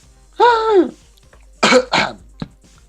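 A few throaty coughs: one drawn-out, voiced hack followed by two rough bursts and a short final cough, fairly close.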